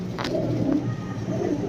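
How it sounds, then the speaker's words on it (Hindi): Pigeons cooing up close, a couple of soft throaty coos over a low background hum of a bird market, with no speech. "ये भी पके पंजों का कबूतर है"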